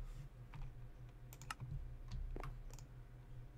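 Computer keyboard keys tapped in a short, quiet burst of typing during a Minecraft session, with a low steady hum underneath and no speech.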